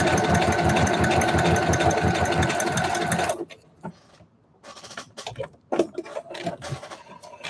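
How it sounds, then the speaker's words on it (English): Sewing machine running steadily for a few seconds while a pocket is sewn shut, then stopping, followed by quieter handling noises and small clicks. "Maybe I'll sew the pocket shut."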